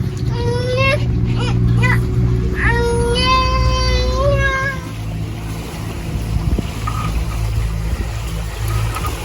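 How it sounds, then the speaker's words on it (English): A sailboat motors under engine in light wind with a steady low engine drone beneath it, while voices and whining tones are heard over the hum. "we've been motoring / motor sailing, although there's no wind in the sail"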